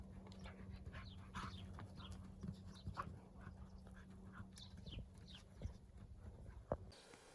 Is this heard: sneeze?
no